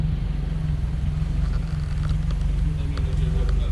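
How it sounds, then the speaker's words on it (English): A 1992 Toyota Corolla 1.3 SEG with a manual gearbox idles nearby, its engine a steady low, slightly uneven rumble with a faint rhythmic pulse, loud and continuous throughout. "I think the idle is a little bit notchy, but it sounds glorious."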